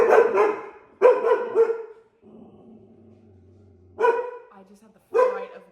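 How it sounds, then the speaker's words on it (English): A dog barks in four separate bursts, a pair at the start and a pair near the end, loud and close, with a quiet, low whimper-like gap between them. "what are you barking at?"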